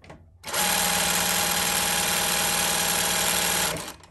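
A Reliable 2300SZ industrial sewing machine runs a straight stitch through folded milliskin fabric, a loud steady motor whir with rapid needle chatter lasting about three seconds, starting and stopping abruptly with no voices.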